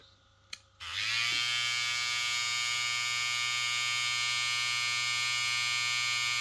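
A Babyliss Skeleton Red FX electric hair trimmer switches on after a click and runs with a steady, close, high-pitched buzz.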